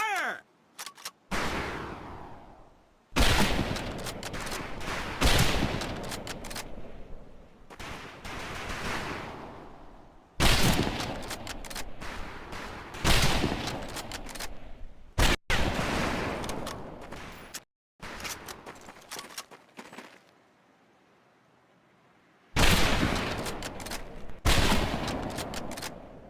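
Repeated rifle shots on a PUBG shooting range, loud cracks fired in several clusters with long echoing tails and brief silent gaps between volleys.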